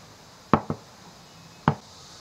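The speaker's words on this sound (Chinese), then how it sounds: "这西红柿把它夹出来，给它切碎" A knife chops a tomato on a cutting board while cold noodles are prepared: three sharp, close chops, two in quick succession and then a single one, against a quiet background.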